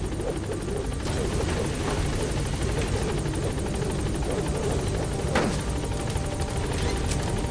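The Pequod support helicopter in Metal Gear Solid V arriving at a landing zone, its steady rotor thrum and turbine whine filling the whole stretch, loud and constant with a couple of brief sharper swells.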